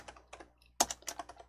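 Typing on a computer keyboard while entering a filename: short bursts of crisp key clicks in an uneven rhythm, close and quiet, with brief pauses between groups of keystrokes.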